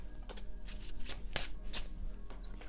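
Tarot deck shuffled by hand, a series of crisp riffling bursts at close range, several quick flurries spread across a few seconds with no talk.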